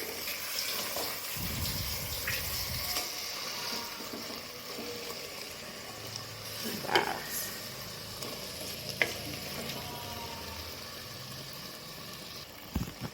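Whole chicken with masala sizzles and fries in a clay pot (matka handi), a steady soft crackle with occasional stirring clinks and scrapes, close and continuous with no talk.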